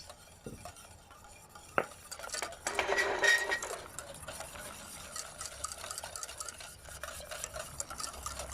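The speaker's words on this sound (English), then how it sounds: "It's all about stirring it." A spoon stirring thickening semolina in a pot for gnocchi, with soft scraping and a few sharp clinks of metal against the pot, a brief louder scrape burst in the middle, close and steady, no talking.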